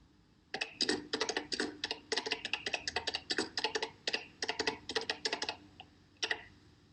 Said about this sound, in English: Type it in and see what happens.